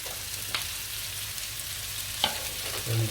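Vegetables sizzle and fry in a pan after capsicum and pepper go in, a steady close crackle with a couple of brief stirring clatters.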